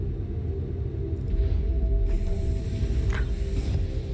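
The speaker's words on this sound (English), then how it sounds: "Here's the main elevator that goes down for crew to enter and exit." The crew elevator of a Star Citizen Drake Caterpillar grinds along with a low mechanical rumble, ratcheting clicks and creaks, and a brighter metallic clank near the end.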